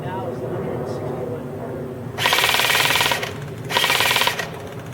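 A G&P Stoner 63 MK.23 airsoft AEG fires full auto at an outdoor range target, two rapid buzzing bursts of about a second each, loud and close, with someone talking before and between them.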